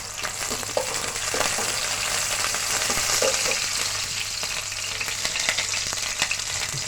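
Green chillies sizzle and fry steadily in hot oil in a pan for noodle cooking, a continuous close crackle with occasional stirring scrapes and pops, with no voices.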